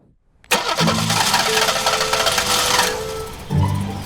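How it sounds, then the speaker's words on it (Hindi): A car engine cranks and catches at once, then runs steadily at a loud, close level for about three seconds before a second burst of cranking near the end; no one speaks. "ये तो मेरी गाड़ी की आवाज है।"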